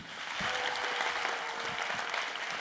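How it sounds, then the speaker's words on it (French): An audience applauding a woman on a French local TV program, a steady, even wash of clapping throughout, moderately distant and without speech over it. "L'excellente Samia Roseman, merci de l'applaudir"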